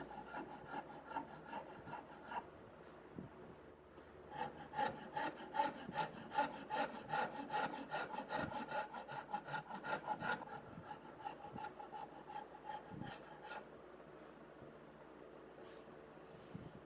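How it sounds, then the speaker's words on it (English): Wood being shaped on a custom guitar body with a round file and saw rasp, quiet repeated scraping strokes in a steady back-and-forth rhythm, close up, with no voices. "And switching to a round file for this inner curve area."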